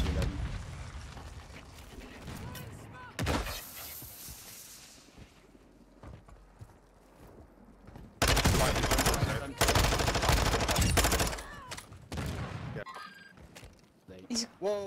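Bursts of gunfire from a team shootout in a video game, with automatic volleys that swell loudest through the middle and sporadic shots around them, heard under players talking.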